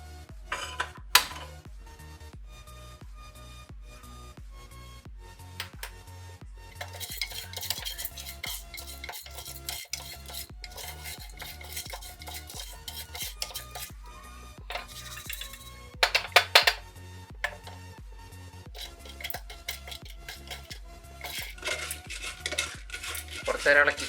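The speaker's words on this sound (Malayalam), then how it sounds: "കുറച്ച് നേരം ഇളക്കിക്കൊണ്ടിരിക്കണം, അതാണ് നല്ലത്." Popcorn kernels with turmeric and salt being stirred in a metal pan on the stove: a steady run of scraping and light rattling clinks from the spoon against the pan, continuing throughout with no talking.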